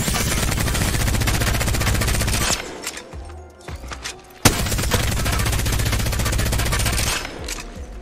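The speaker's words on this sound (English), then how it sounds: "shooting a Devotion on regular speed, so no attachments" Devotion light machine gun from Apex Legends fires in long sustained full-auto bursts with no attachments, loud and dense, breaking off briefly near the middle before resuming, then tailing off at the end.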